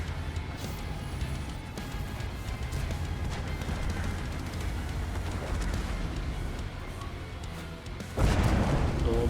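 Dense, rumbling video game gunfire and blasts churn continuously, ending with a heavy, louder explosion near the end.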